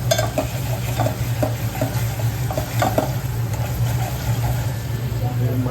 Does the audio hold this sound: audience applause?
no